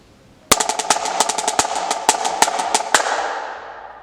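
Marching snare drum playing 5-stroke rolls broken by single accented hits on the left hand, a sharp attack followed by dense, rattling buzz strokes and crisp accents, loud and close with no talk.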